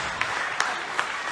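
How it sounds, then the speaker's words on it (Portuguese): A church congregation applauds during a worship service, a dense wash of many hands clapping with a few sharper bursts standing out at a steady rhythm. "bate palma para o Senhor, aplauda"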